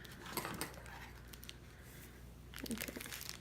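Scraping, tearing slices of a knife cutting through the plastic packaging of a moss ball, with crinkling bursts near the start and again toward the end, fairly quiet and close.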